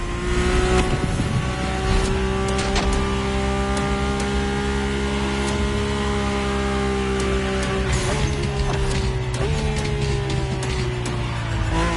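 A Mercedes-AMG One in The Crew Motorfest holds a loud, sustained engine drone with steady harmonic tones, easing and shifting pitch slightly as it revs, heard up close with no talking.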